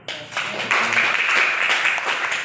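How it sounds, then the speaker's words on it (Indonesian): Classroom applause from a group, a steady patter of clapping that rises quickly and holds for a couple of seconds, fairly close and dense. "Oke, tepuk tangan dulu."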